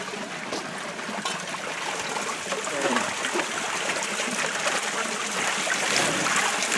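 Water washes material through a hand-cranked trommel sluice that also runs a bicycle-powered sarucca, giving a steady, close, fairly loud rushing trickle with gritty splashing and no talk.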